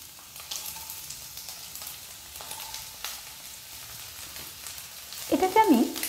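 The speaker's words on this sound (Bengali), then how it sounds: "রাফলি চপড করে নিয়েছি মিডিয়াম সাইজের 2টো পেঁয়াজ, এগুলো আমি তেলের মধ্যে দিয়ে দিচ্ছি।" Two medium-sized, roughly chopped onions hit hot oil near the end, a loud burst of sizzling and frying after several quiet seconds of faint kitchen background.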